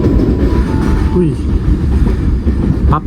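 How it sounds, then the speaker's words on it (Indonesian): A container freight train passing close by near Tegal station in Indonesia, with a continuous loud rumble of wagons and rolling wheels, brief metallic squeals and clatter, and a voice talking faintly under the noise. "papasan kereta api peti kemas pakai logo stiker terbaru, stiker Lebaran 2023."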